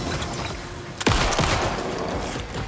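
A shotgun fires in the video game Alan Wake II: one sudden loud blast about a second in, followed by a long rumbling tail and dense game noise.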